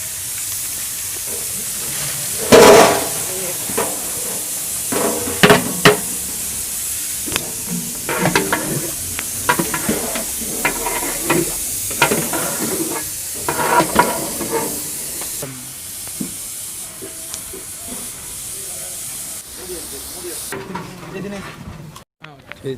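Onions going into hot ghee and refined oil with green chillies and whole garlic for Trichy-style mutton biryani, a steady close sizzle and steam hiss with repeated stirring scrapes throughout.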